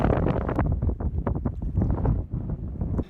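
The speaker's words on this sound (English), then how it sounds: "it's very windy, probably a little more so than yesterday." Strong wind buffets the microphone in loud, gusty bursts, a continuous rough roar outdoors by a lake.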